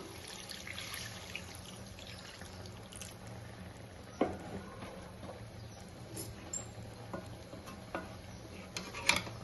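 Chicken ghee roast is mixed with added water in a pan, giving soft wet stirring and scraping with occasional light knocks against the pan, faint and steady over a low background hum.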